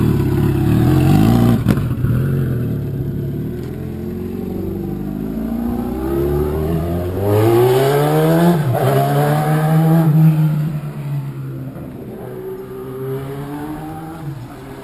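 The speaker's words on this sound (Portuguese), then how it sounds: "fazendo o teste do escape com a flautinha." Kawasaki Z1000 motorcycle with a baffle insert in its exhaust, revving repeatedly in a rising and falling pattern, loud and close, with sustained throaty engine tone and no talking.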